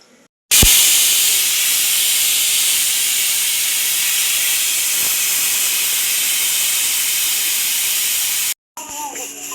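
A new pressure cooker releasing steam through its whistle, a loud, sustained hiss that starts abruptly and runs for about eight seconds before cutting off, with faint room sound either side.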